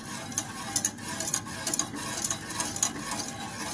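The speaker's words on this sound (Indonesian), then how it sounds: "Dimasak sampai kental guys ya, sambil digoyang-goyang gini ya, sampai diaduk-aduk agar" Wheat porridge being stirred in a cooking pot, with irregular scraping and clinking of the utensil against the pot over a low bubbling simmer.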